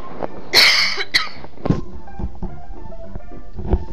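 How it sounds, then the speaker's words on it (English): A single harsh cough up close, followed by a couple of quieter throat sounds and soft handling noises. "Sorry about the cough"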